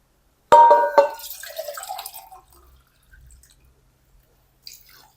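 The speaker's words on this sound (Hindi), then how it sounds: "तो इस दाल को पतला करने के लिए हम इसमें पानी शामिल करेंगे।" Hot water poured into a pot of cooked dal for daal chawal, a sudden splashing pour that starts loud and close, then tapers into trickles and faint drips before a brief final splash.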